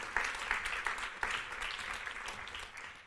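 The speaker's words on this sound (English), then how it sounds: "a big applause for our jury, please, again" Audience applause at a closing ceremony, honoring the jury: a steady patter of many hands clapping through the whole stretch, with a few louder swells, and no talking over it.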